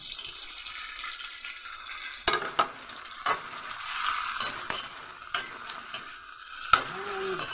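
Kangkong stems frying for adobong kangkong, a steady close sizzle with scattered sharp clinks and scrapes of a utensil stirring the pan, no voices.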